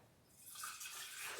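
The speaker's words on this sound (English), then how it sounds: "I can go ahead and pour that in there like that" Homemade almond milk poured into a container, a brief, faint liquid stream that starts after a moment and runs smoothly for about a second.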